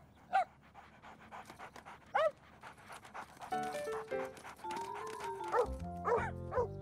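A cartoon dog pants in quick short bursts, fairly close, followed by light musical tones.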